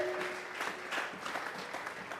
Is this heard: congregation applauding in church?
yes